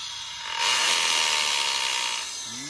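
A Japanese power drill runs in hammer mode, spinning up to a steady, loud, buzzing whir that holds for about two seconds before winding down, heard close with no talking.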